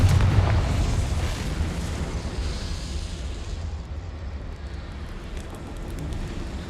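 A Confringo blasting spell goes off in the video game Hogwarts Legacy: a loud, deep explosion with a heavy low boom that rolls on into a long rumbling, debris-filled tail.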